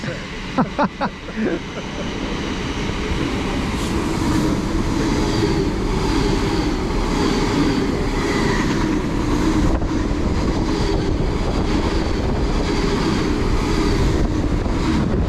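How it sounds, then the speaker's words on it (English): An LNER Azuma train bound for Edinburgh passes through a station with a loud, sustained rumble and wind roar that builds within the first two seconds and continues steadily. "next up we've got an LNER Azuma to Edinburgh coming through"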